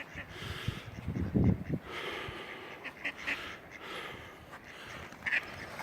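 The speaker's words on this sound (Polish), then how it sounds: "O, pofrunęła, kaczuszka wystraszyła się." Startled ducks taking off from along the Świder river, quacking in a few short bursts, with one louder flurry early on and fainter calls afterward against outdoor background noise.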